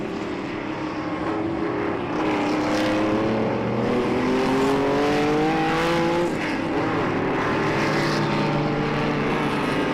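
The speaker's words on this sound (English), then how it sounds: "There are some late 50s cars up till 1976 cars on this grid." Historic racing cars from the late 1950s to 1976, including a Ford GT40, race at Jarama, their engines roaring past in a steady loud drone with rising and falling pitch as they go by.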